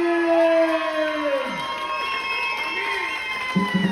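Crowd cheering and shouting for contestants at a costume contest in a karaoke patio, a busy, fairly loud din with sustained voices and a rising tone mixed in.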